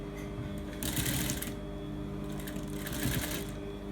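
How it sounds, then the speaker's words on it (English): A sewing machine stitches behind a zipper into a garment lining, running with a fast, steady mechanical whir that swells twice in brief bursts, close and alone. "And then you're coming to sew right behind the zipper."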